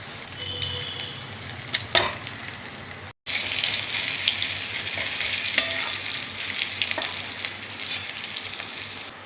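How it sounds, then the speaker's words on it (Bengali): Crushed garlic and a bay leaf sizzle steadily in hot oil, a continuous bright crackle broken by a brief silent cut, with occasional stirring clinks. "এবার রসুন ফোড়ন দিলাম।"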